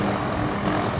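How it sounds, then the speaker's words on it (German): Helicopter spraying crop protection against fungal disease over vineyards, a loud steady rotor and engine roar filling the whole moment with no voices. "Ich habe das auch noch nie gesehen mit dem Hubschrauber."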